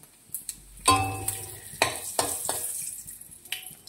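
Panch phoron, dried red chillies and bay leaves spitting in hot oil in a pan, with bursts of crackling sizzle and a few sharp spoon clinks, close and fairly loud, no talking.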